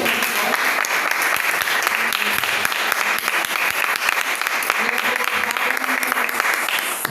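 A church congregation at a Sunday service claps steadily, a dense and fairly loud wash of hands sustained throughout with faint voices mixed in.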